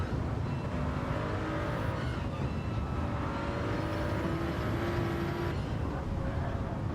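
Race car engine droning around the Nordschleife in a sim racing endurance event, a steady loud whine with shifting pitch, continuous and unbroken throughout.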